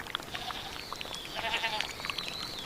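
Farm goats bleat at feeding time as fresh grass is brought to them: several overlapping bleats of moderate loudness, some nearer and some farther, against a noisy outdoor background.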